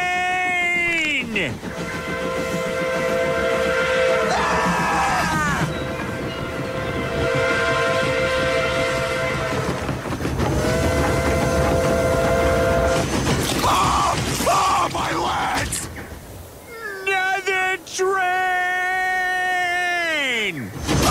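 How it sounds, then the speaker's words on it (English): Cartoon train bearing down on a bridge, sounding a loud sustained multi-tone whistle in repeated long blasts over rumbling wheels, with shouting voices mixed in. "Train!"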